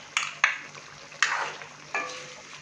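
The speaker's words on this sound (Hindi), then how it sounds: "अच्छी तरह से हम बीफ को ऑयल के अंदर भून लेंगे" Beef frying in half a cup of cooking oil for a white korma, with four distinct stirring scrapes, each followed by a short sizzling hiss, close and with no speech.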